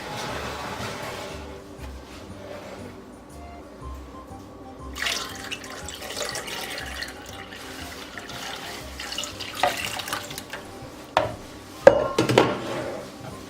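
Milk pours into a blender already holding eggs for a caramel flan, a soft trickling splash with light clinks of kitchenware, building into louder splashes and knocks toward the end.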